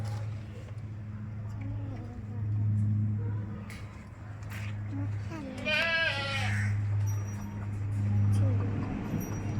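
A goat of roughly 40 kg, offered for sale at Mannarkkad in Palakkad district, gives one clear wavering bleat midway, close by, over a steady low engine-like hum while a person talks.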